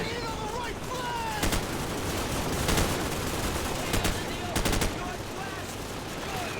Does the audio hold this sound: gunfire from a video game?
yes